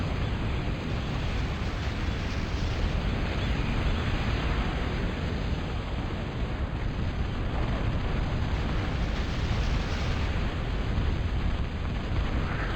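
A Vulcan artillery unit fires continuously in a video game, producing a dense, unbroken roar of rapid gunfire that holds at the same level for the whole stretch, with no talking over it.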